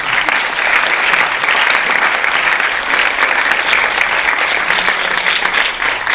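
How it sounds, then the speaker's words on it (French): An audience at the close of a medical ethics workshop breaks into loud, sustained applause, a thick continuous patter of many hands clapping for around six seconds with no voices over it. "Vous pouvez les applaudir"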